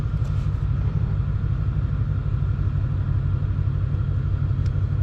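Steady low rumble of a 2020 Ford Mustang Shelby GT500 engine while driving, a continuous, fairly loud drone heard from inside the car with no talking.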